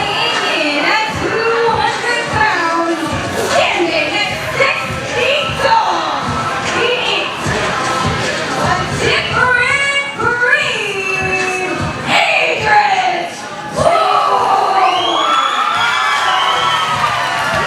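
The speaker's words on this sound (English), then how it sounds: "The highly athletic Idris Wolf getting the love from the crowd here" A wrestling crowd in Columbus cheering loudly and continuously for the entrance of Idris Wolf, a dense mix of shouts, whoops and high-pitched children's voices filling the whole stretch with barely a lull.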